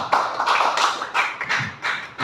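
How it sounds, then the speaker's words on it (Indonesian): An audience claps for a speaker at a school gathering, a dense ragged burst of hand claps that swells and fades in waves, loud and close. "Kasih aplaus Bapak Ibu untuk Pak Ikra"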